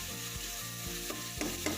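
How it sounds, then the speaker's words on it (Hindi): Masala spices with green chillies sizzle and fry steadily in a pan for a black chickpea curry, with a few soft stirring knocks against the pan over the continuous close hiss. "मसाले को मैं अच्छी तरह भून लूँगी, तकरीबन 7 से 8 मिनट।"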